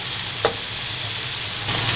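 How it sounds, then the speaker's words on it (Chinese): A bull penis is tossed into a wok of hot oil with fried scallion, ginger, garlic, doubanjiang, spices and hotpot seasoning and stir-fried, giving a steady close sizzle with a brief scrape of the stirring utensil near the start. "然后把牛鞭放下去一起炒哈"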